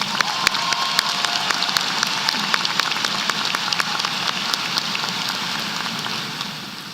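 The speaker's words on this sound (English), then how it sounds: "Now, if you would join me in giving all of our distinguished guests a round of applause." Dense, steady clapping from a large audience at a high school graduation ceremony, holding at an even level throughout with scattered sharper claps standing out.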